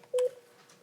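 A single short, clear telephone dialing tone, loud and close, followed by a faint, noisy line.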